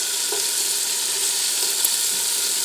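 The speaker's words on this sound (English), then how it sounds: "now we're going to add some of the bacon in here. Let it cook and let it get crisp." Bacon fries in a pot toward crisp, giving a steady, dense sizzle and crackle that holds even throughout, close and fairly loud with no voices.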